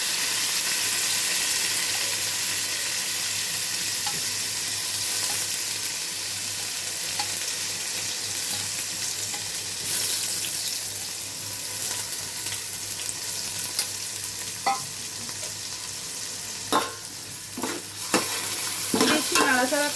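Rice being stirred into hot ghee in a pan for khichuri, a steady close sizzle with scraping spoon strokes, a few sharper clinks and stirring scrapes toward the end, no voices.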